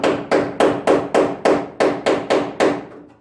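A chisel is hammered through the cowl panel of a 1968 GTO: about ten sharp, loud strikes at a steady, even pace, close by with no talk. The last blow rings out and fades.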